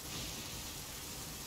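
Steady rain pours down in the Genshin Impact video game, a dense continuous hiss of falling water and drops on surfaces, even and unbroken throughout, with no voices over it.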